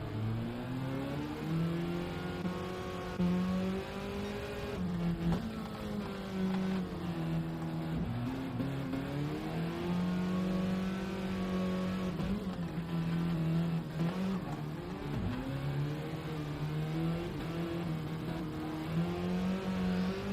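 Mini Cooper race cars in a GTRC series round roar continuously, engines revving and shifting pitch as they charge around the circuit, loud and steady throughout.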